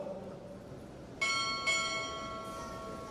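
A ship's bell is struck twice in quick succession at a Navy Recruit Training Command chief petty officer pinning ceremony, each bright, clear ring lingering and fading in a quiet hall.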